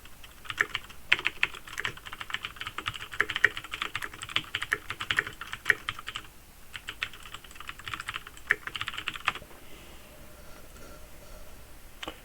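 Rapid typing on a computer keyboard, a steady close stream of light key clicks with occasional louder taps, continuing for several seconds before easing off near the end, with no talking.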